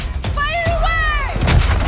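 Heavy cannon booms from pirate ships in the Skull & Bones game, a few deep thuds under a voice speaking over a swelling musical tone.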